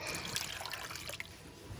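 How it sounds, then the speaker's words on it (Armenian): Water is poured from a glass into a pot while cooking corn, producing a faint continuous trickle and splash with a few small drips, quiet and without talk. "Հիմա այստեղ լցնելու ենք 2 բաժակ ջուր։"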